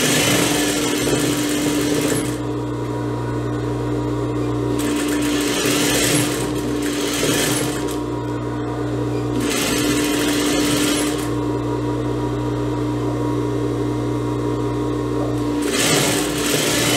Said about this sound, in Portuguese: vou passando a costura